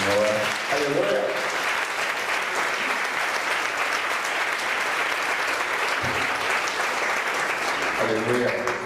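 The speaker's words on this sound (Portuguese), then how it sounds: "A igreja mais uma vez aplaude o Senhor." A church congregation applauds steadily throughout, dense clapping filling the whole stretch at an even level, with brief spoken or sung voices breaking through near the start and end.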